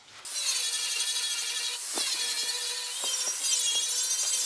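Abrasive 80-grit disc grinding surface rust off the steel fender skirt of a 1962 Cadillac Series 60 Fleetwood, a loud continuous high whine with brief dips and faint tapping, close and steady with no talking.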